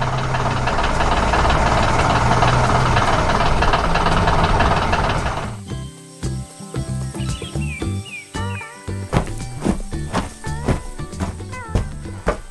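Machine engines in an animated harvest scene with a conveyor carrying crates of purple grapes rumble loudly and steadily for about five seconds, then give way to scattered clanks and bird calls.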